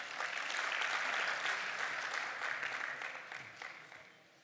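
Audience applause at a national informatics congress for a university rector: steady, dense clapping from a crowd that gradually thins and fades out.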